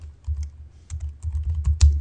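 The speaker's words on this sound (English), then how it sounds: "can't even type" Computer keyboard typing in short irregular bursts of clicky keystrokes, close and fairly loud, with no voices.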